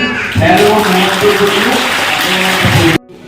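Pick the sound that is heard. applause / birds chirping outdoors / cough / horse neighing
applause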